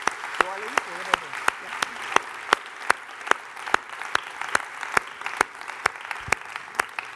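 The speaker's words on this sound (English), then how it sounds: "What an amazing job. A big, huge applause." Prolonged audience applause at the One Young World 2011 gathering: an even, continuous roar of clapping hands with regular sharp close claps throughout, and brief speech murmuring beneath near the start.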